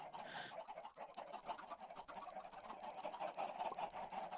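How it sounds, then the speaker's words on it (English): Chickens clucking in a vanilla single-player farming video game, a steady busy stream of game-fowl calls at moderate volume throughout, with no talk. "I've just got a couple chickens."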